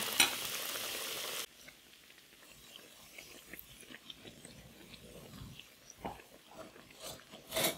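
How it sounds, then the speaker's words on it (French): Homemade falafels made from fava beans frying in hot oil, a loud burst of sizzling that drops after a second or so into a steady, close crackle and popping. "Et au fur et à mesure, je les mets dans l'huile chaude."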